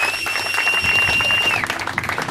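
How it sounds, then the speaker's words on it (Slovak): Applause at an award ceremony for a youth sports tournament, a dense burst of clapping from a gathered crowd that builds and continues steadily, with a brief tone fading out near the start. "Veľký potlesk."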